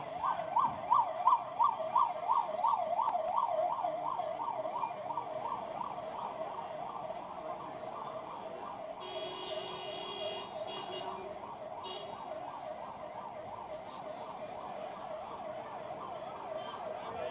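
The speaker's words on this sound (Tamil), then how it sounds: "அண்ணா எல்லாரும் கொஞ்சம் வழி விடுங்க ஆம்புலன்ஸ்க்கு." Ambulance siren wailing in a steady rising-and-falling cycle amid a crowded street, loud at first then settling into a sustained tone, with a brief burst of other noise partway through and no talk.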